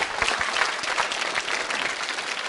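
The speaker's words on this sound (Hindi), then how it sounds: "तालियां बजाइए अभय के लिए" Audience at a school quiz show applauds a contestant with sustained, even clapping at moderate level, a few sharper claps standing out near the start.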